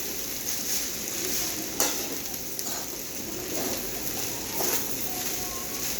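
Schezwan fried rice stir-fried over a high gas flame sizzles steadily, with a few sharp clinks and scrapes of the spatula against the pan at irregular moments, close and continuous.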